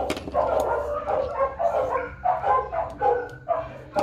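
Dogs bark excitedly in a rapid, repeated series of close, loud yips and barks that continue throughout during a dog training session.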